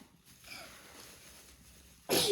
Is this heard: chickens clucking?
no